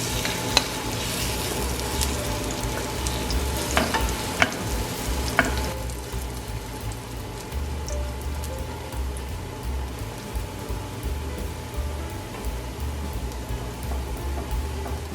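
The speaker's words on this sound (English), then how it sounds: "I just use canola and just drop by the spoonful" Spoonfuls of zucchini and cabbage pancake batter frying in hot canola oil over medium heat give a steady, close sizzle, with a few sharp pops and crackles early on; no one speaks.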